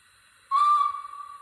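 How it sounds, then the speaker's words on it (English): A guard's whistle sound effect from a Rapido Hunslet 16-inch 0-6-0ST DCC sound model locomotive gives one sharp, shrill blast that starts suddenly and holds for about a second before fading slightly. "So we need the guard's whistle now."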